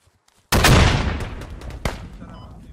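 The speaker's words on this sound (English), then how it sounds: "They're shooting." Gunfire in a video game: a sudden loud close blast with a long rumbling decay, then a second sharper shot, with a faint murmur of a voice beneath.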